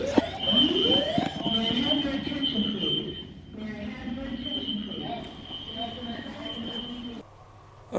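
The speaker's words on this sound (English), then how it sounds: "I was awoken by a fire alarm in the middle of the night or day" A hotel fire alarm sounding in the middle of the night, a steady high-pitched electronic tone running almost throughout, while a person talks and moves nearby, cutting off near the end.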